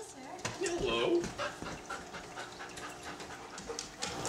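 An anxious dog pants and barks at a stranger. The heavy, rapid panting comes with a few short barks and whimpers, close to the listener, while people talk nearby.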